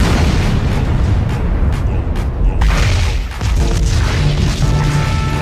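A cannon fires a shell during a Çanakkale battle reenactment, a loud booming blast whose rumbling roar fills the scene and trails off before another surge of noise, with no speech over it.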